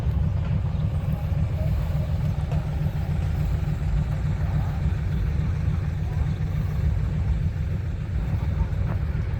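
A combine harvester engine idles at a show, giving a steady, continuous low-pitched rumble at constant loudness with no clear speech over it.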